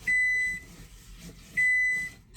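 A kitchen oven beeps twice to signal it has finished preheating, each beep a sustained high electronic tone about half a second long, separated by a pause, over faint room noise.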